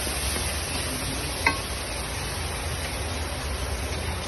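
Green chili is stirred into pancit canton in a pan, a steady hissing sizzle with one brief clack of a utensil against the pan partway through.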